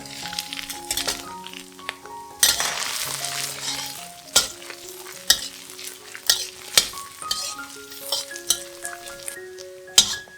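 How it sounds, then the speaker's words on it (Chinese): Shiitake mushrooms are stir-fried in a wok with ginger for a Fuzhou-style vegetarian sea cucumber dish. A steady sizzle sits under sharp, repeated clinks and scrapes of the spatula on metal, with bursts of louder stirring. "再放入香菇爆香"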